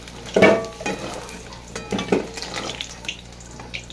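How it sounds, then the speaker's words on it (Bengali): Potatoes fry in hot oil in a pan while a utensil scrapes and stirs them, making a few clattering strokes over a soft sizzle, close up, with no talking. "আলুটা একদম লালচে করে ভেজে নেবো।"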